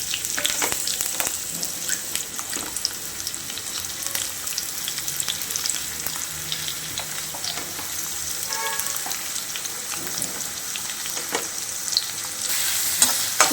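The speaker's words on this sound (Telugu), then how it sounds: "ఉల్లిపాయ వేసుకుంటున్నాను" Chopped onions frying in a pan for mutton liver fry make a continuous close crackling sizzle with scattered stirring scrapes and pops, no talk.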